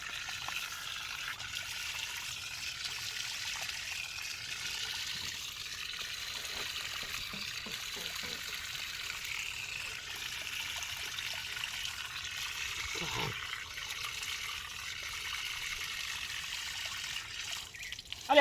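Water runs from a tap in a thin, steady trickle, faint but constant for the whole stretch, with no voices.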